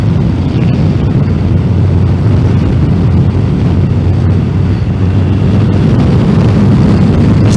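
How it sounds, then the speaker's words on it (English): Wind buffeting on a Yamaha FJ motorcycle ride, a loud, constant low rumble of rushing air and road noise that carries on steadily without a pause. "even in a windy day like this"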